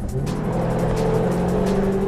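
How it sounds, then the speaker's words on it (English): A 2014 Jaguar F-Type V8 S revs its engine through the exhaust, a loud, close, continuous drone with a slowly rising pitch and no voices. "Next thing you notice is that exhaust. It's actually obnoxious."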